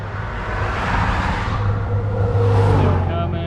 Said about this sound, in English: Hold on, there's 64 cars coming.